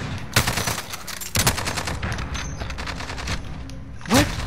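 Automatic weapon fire in Call of Duty: Modern Warfare, heard in several loud close bursts of rapid shots with a sharp boom near the end.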